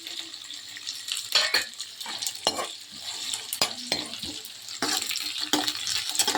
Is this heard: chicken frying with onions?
yes